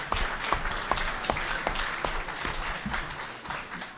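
Audience at a senior center community meeting clapping steadily, a dense wash of applause from a moderately sized crowd holding at an even level for several seconds.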